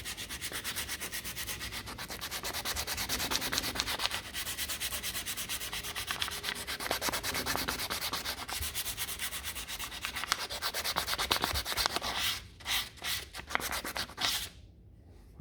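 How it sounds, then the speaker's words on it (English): Wooden dice edges being hand sanded with fine 240-grit sandpaper: close, steady rapid rubbing strokes scratching on for many seconds, then a few separate strokes before it stops. "next need to move to the finer sandpaper, which you can tell it's yellow, and this is number 240"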